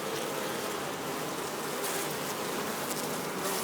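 Agitated honey bees swarm around a queen cage while a new queen is introduced, a steady close buzzing hum that fills the whole stretch at moderate level, with no talk.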